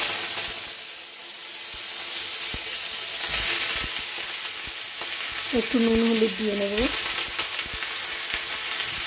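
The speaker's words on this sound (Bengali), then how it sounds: "এখন আমি ভেজে নেব" Broccoli sizzles and crackles steadily in hot oil in a wok, with light stirring clatter and a brief tonal scrape partway through, under a short spoken remark.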